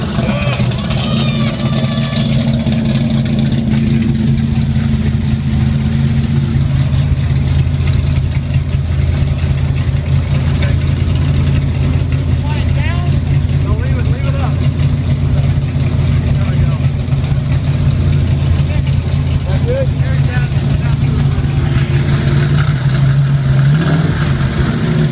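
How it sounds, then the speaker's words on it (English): A 2011 Shelby AC Cobra with an aluminum body idles with a deep, loud engine rumble that rises into a rev near the end, while people talk nearby. "Firing up the Cobra 2011 right here."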